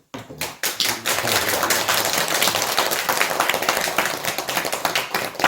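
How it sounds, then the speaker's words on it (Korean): Audience applause for a county governor at a lantern offering event: dense, steady clapping from a crowd that starts abruptly and holds at an even, full level throughout. "군수님께 심찬 박수를"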